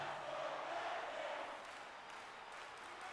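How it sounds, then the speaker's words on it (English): A hockey arena crowd in the video game NHL 24 cheers with a broad, distant roar that swells and then eases to a steady murmur, fairly faint overall. "Detroit crowd having a fun night tonight."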